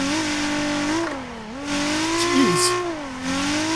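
Engine in Torque Drift 2 revs hard after a clutch kick during a parking lot drift, a steady loud drone with pitch swinging up and down, and a brief tire squeal partway through.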